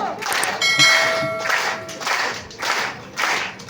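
A live audience at a Hindi poetry recital claps together in rhythmic bursts, a loud crowd of hands rising and falling in regular pulses, with a ringing bell-like tone sounding briefly near the start.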